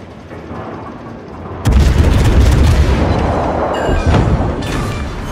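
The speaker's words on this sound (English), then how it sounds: "so that was 3 salvos for battleship" A battleship's main guns fire in World of Warships, one heavy booming salvo that erupts loudly and then rumbles on, with later bursts layered into the sustained roar.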